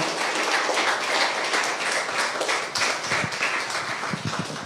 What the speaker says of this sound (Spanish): Damos un aplauso al Señor.